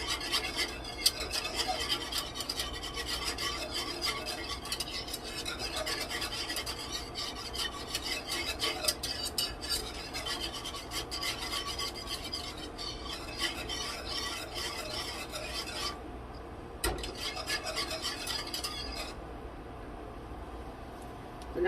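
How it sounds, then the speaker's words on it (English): A spoon stirs German chocolate cake filling with coconut and pecans in a bowl, a steady rasping scrape that repeats quickly and evenly for a long stretch, fairly quiet and close, with a short pause partway through. "I'm just going to stir it"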